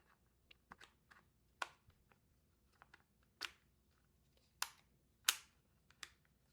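Crosman TR50 Torpedo CO2 pistol fired several times: sharp, dry pops spaced irregularly over a quiet background, some louder and closer than others, with no voices.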